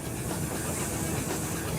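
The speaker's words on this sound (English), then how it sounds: "With the glow of the firebox there, flames licking out of the firebox, all the gauges, steam coming in through the roof." Steady loud hiss of steam inside the cab of an LNER A4 steam locomotive, a continuous broadband rush with low rumbling rail noise beneath and no talk.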